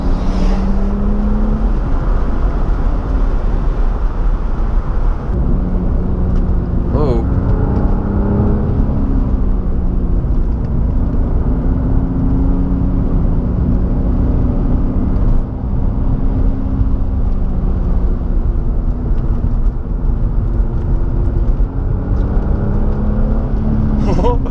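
A BMW M3 is driven hard up twisting mountain roads, its engine a steady, loud drone heard from inside the car, rising and easing slightly as the revs change.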